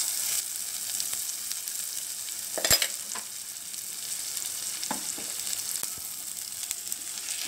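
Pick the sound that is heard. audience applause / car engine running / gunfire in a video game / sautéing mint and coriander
sautéing mint and coriander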